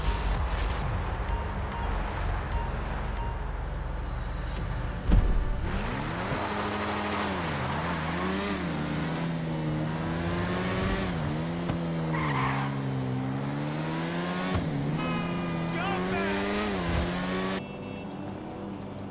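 Street race in GTA 5 Online, with loud engines revving and shifting through gears, tires skidding and squealing through corners, and a continuous close roar that dips in a couple of spots.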